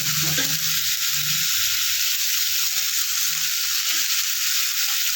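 Shrimp sizzle and fry steadily in a pan with sliced snake gourd, a continuous bright hiss with occasional soft stirring scrapes and no voices.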